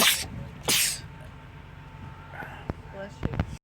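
A sharp sneeze bursts out near the start, followed by a second loud sneeze, then quieter sniffing and clicking sounds.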